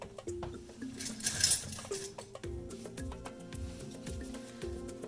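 A spatula clinks and taps repeatedly against a container while stirring cold process soap batter, light irregular clatters with small scraping knocks, close and fairly soft.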